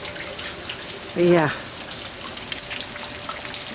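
Heavy rain falls steadily outdoors, and rainwater pours into buckets set out to catch it. The hiss is dense and close, someone speaks briefly, and a short tonal sound rises over it.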